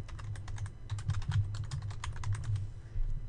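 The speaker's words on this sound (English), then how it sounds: "we'll type medical problems into the search box" Quick, close clicking of keys on a computer keyboard as a search query is entered, a rapid uneven run of light taps with no voice over it.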